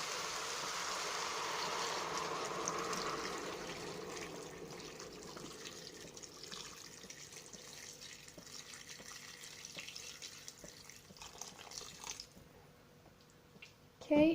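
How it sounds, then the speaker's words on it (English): Water poured into a pot of mixed vegetables for soup, a steady splashing and trickling stream at low level that gradually thins out, ending with a brief clatter. "Now we're going to add water."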